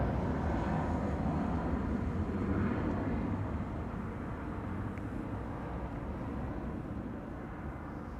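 A Croatia Airlines airliner in Star Alliance livery departs runway 24 (Kaagbaan) at Amsterdam Schiphol, its jet engines a broad, steady roar heard from some distance that slowly eases over several seconds, with no voices.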